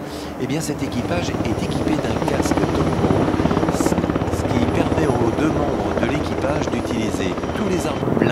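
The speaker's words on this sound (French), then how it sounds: "Si le Tigre c'est un hélicoptère multirôle" A Tiger attack helicopter flies a display at the Paris Air Show, its rotor and turbine drone loud and steady throughout with a rhythmic blade chop, while a French-speaking commentator talks over it continuously.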